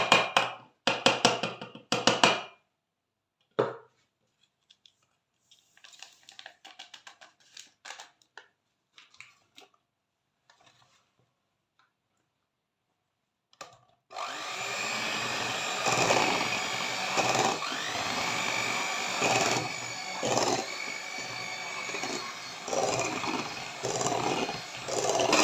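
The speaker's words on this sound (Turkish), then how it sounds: "Şimdi dilerseniz krem şantimizi ilave edelim ve mikserimizden 5 dakika geçirip" Electric hand mixer whipping whipped cream into cooled milk pudding for a layered cake, a steady loud whirring drone that starts partway through after quiet clinks and lasts to the end.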